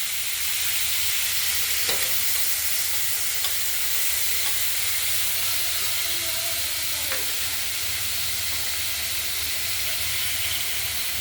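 Green chili and chopped tomatoes frying in a pan for a spicy bata fish curry, a loud continuous sizzling hiss with steam, steady throughout and undisturbed by talk.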